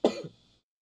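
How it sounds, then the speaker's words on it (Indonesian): A single short cough, close and quiet, with a brief raspy tail. "Agak batuk."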